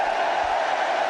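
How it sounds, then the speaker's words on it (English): A big stadium crowd at a cricket match cheers in a continuous, broad roar, loud and sustained with no break. "And the big cheer, as you'd expect"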